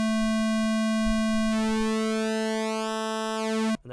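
A pulse-width synth tone from the MPC 2.10 synth plugin sustains as a steady buzzy pitch alone, its harmonics shifting midway as the pulse width changes, before cutting off abruptly near the end.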